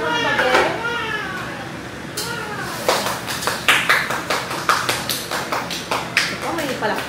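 Excited voices at home are followed by a run of sharp, close hand claps that come in quick bursts and pauses through the second half, while people keep talking over them.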